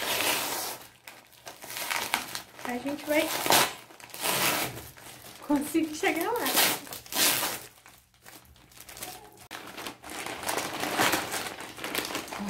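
Plastic packaging being cut open with scissors and crinkled, a series of loud crackling bursts and rustles close by, with someone talking over and between them.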